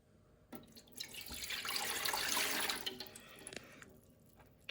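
Water poured into a slow cooker for wet-rendering beef tallow, a soft trickle swelling into a steady splashing pour for a couple of seconds before tapering off, fairly quiet and close.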